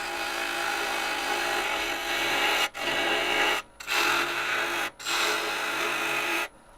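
A woodturning gouge cuts into a spinning myrtle bowl on a lathe, making a loud, steady rasping scrape. The scraping comes in several long passes separated by brief gaps, with no talking.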